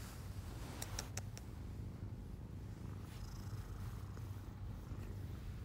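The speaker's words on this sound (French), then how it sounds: "Ouais, elle ronronne." A faint, continuous low rumble of a cat purring, close and soft, with a few light clicks early on.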